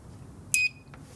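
A 300W power inverter gives a single short, high-pitched electronic beep as it is switched on, lasting about a tenth of a second over quiet background hiss, followed by a faint click.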